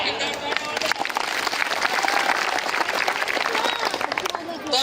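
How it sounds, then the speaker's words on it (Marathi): Crowd applause at a protest march rally in Gadchiroli district: dense, sustained clapping from a large gathering that fills the whole stretch, with voices mixed in. "आपण आपल्या स्वतःसाठी आपण टाळ्या वाजवूया"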